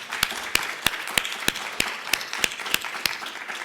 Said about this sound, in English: let's give a big hand again to Bridget, our conference queen.